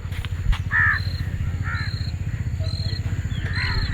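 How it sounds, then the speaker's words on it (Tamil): Birds calling loudly overhead at the Adiyogi site near Coimbatore, repeated harsh crow-like caws coming in short bursts over a steady low rumble in the background. "இந்த பறவைகள்லாம் மேலே பறக்கிறது"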